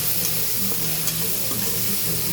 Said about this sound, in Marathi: टोमॅटो काय जास्त शिजवायचं नाही आपल्याला, थोडासा फ्राय करायचा आहे।